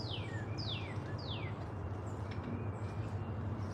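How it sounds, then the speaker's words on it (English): Several birds call outdoors in the woods, with repeated descending chirps and whistles over a steady low rumble of background noise, with no voices. "A lot of birds out here."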